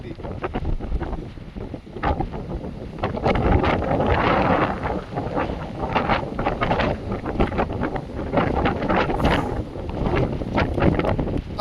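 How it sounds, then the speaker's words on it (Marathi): Strong gusting wind on the Gaganbavda ghat buffets the microphone in loud, uneven roaring bursts that rise and fall throughout. "आणि आवाज तुम्हाला येतच असेल वाऱ्याचा"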